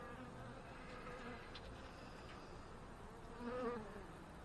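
Soft, steady buzzing of many honey bees heard close in a hive with chalk brood, with a brief louder swell near the end.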